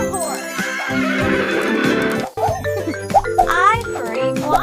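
A horse neighs loudly and close by in a long whinny, followed by snorts, shorter whinnies and a few hoof-like clops.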